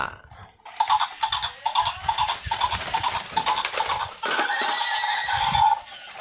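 A toy zebra plays a recorded neighing whinny, a busy, bright electronic sound that runs nearly continuously for several seconds, close and fairly loud, with mechanical clicking from the toy underneath.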